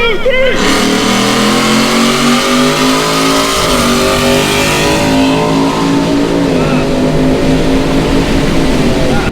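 Supercharged and EcoBoost Ford F-150 pickups, including a Ford Lightning, accelerating hard from a rolling start in a drag race, loud engines revving and climbing through gear shifts continuously, with people talking over the roar.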